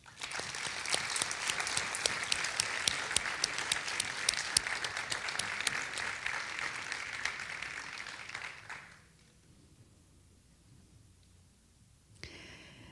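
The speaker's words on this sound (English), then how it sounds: "Let us please give a very deserving round of applause to Nathan, Catherine, and Ken." An audience at a youth human rights awards ceremony gives a round of applause for youth volunteers, with dense, steady clapping for about nine seconds that fades out, followed by a quiet room.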